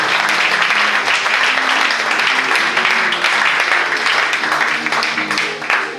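A church congregation at a Sunday service applauding, with dense sustained clapping from many people filling the room at a steady level throughout.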